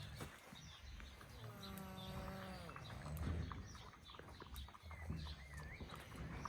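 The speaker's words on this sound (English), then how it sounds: "They're very young calves." Very young calves on a New Zealand farm give a short drawn-out bleating call, heard alongside shuffling and other low livestock noises in a busy outdoor setting.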